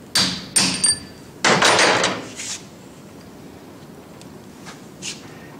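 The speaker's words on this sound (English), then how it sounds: "Brass drift, ball peen hammer." A ball peen hammer strikes a brass drift several times in quick bursts, a few sharp ringing taps close by, then quieter scattered taps trail off.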